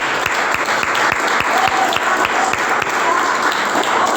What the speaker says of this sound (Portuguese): Vamos aplaudir o Senhor, amém?